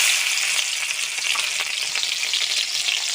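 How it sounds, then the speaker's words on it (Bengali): Panch phoron and green chilies sizzling in hot oil, giving a loud, dense, steady frying hiss with fine crackling that holds throughout, with no voices. "তেলটা গরম হয়ে গেছে, ফোড়নে দিয়ে দেবো 5 ফোড়ন, কাঁচা লঙ্কা"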